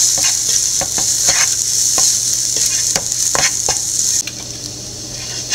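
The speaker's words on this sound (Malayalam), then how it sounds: "കുറച്ച് മുളക് പൊടി ഇട്ട് കൊടുത്തതിന് ശേഷം നല്ലപോലെ വഴറ്റിയെടുക്കാം" Onions with chili powder sauté in a pan for Kerala onion thoran: a bright, constant sizzle broken by repeated scraping stir strokes, loud and close, easing slightly toward the end.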